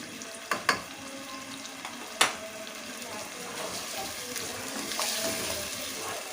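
Mutton pieces frying with whole garam masala spices in a pot for aloo gosht curry, a steady soft sizzle with a few sharp clinks of a spoon stirring near the start.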